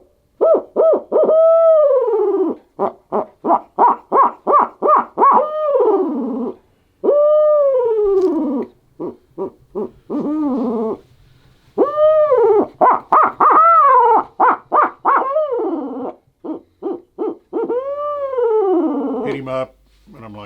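Loud, close owl hooting imitation made with a turkey-hunting owl call, repeated in many bursts: long descending hoots mixed with rapid clusters of short choppy notes, separated by brief pauses.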